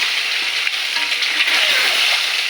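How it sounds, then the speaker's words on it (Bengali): Eggs rubbed with salt and turmeric fry in hot oil in a kadai, making a loud, continuous hissing sizzle with faint crackles, heard close up and alone. "এবার ডিমগুলো ভেজে নেব।"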